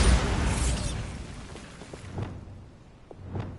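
A Bombarda spell blast in a Hogwarts video game: a loud, broad explosion that fades over about two seconds, followed by a few softer thuds and pops.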